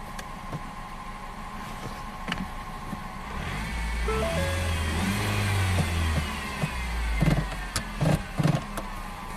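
A vehicle engine with a fault code cranks and catches, then idles and revs unevenly, a mid-pitched hum rising partway through, close up, with a few clanks and clicks toward the end.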